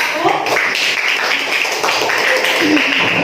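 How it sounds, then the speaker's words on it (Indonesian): Classroom applause for a student group presenting during a teaching practice lesson, a steady dense patter of many hands clapping throughout, fairly loud and close, with some voices mixed in. "Tepuk tangan untuk kelompok 1."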